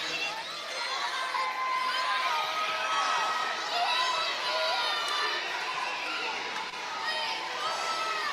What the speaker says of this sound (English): Crowd making noise.